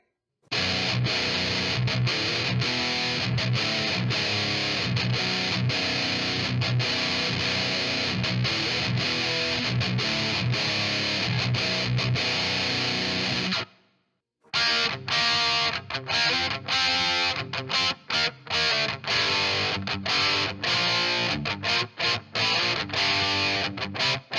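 Heavily distorted electric guitar through an Empress Heavy Menace distortion pedal plays a dense, driving metal riff for a long stretch, briefly cutting out before resuming loud and saturated.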